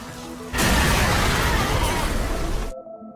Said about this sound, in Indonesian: dengan terpaksa ia kini meledakkan sebuah gas yang berada di camper van-nya itu